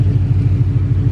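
Coyote V8 swapped into a Ford Mustang idles while warming up, a loud, close, throbbing low rumble with a steady pulsing lope and no voices.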